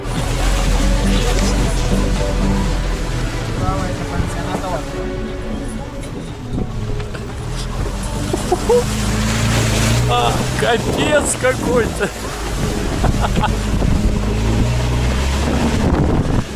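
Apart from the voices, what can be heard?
convertible jeep driving off-road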